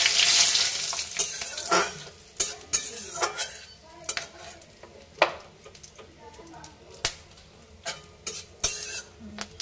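Whole cumin seeds, two dried red chillies and a bay leaf crackle in hot oil, with a steady sizzle broken by sharp pops and spoon or utensil clinks at close range, with no talking.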